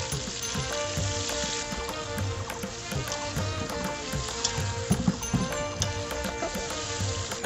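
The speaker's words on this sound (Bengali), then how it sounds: "এখন আমি মাংসটা ভালো করে কষিয়ে নেব।" Goat meat sautéing in a pan, a steady loud sizzle and crackle with scraping stirs throughout, close up and without speech.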